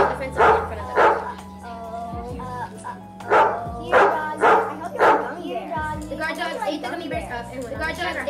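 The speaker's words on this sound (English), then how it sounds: "There were guard dogs that came running out and got the fence up in front of them." Guard dogs bark in a school shadow play sound effect, a series of loud, separate barks in bursts, then quicker yipping toward the end over a low sustained musical backdrop.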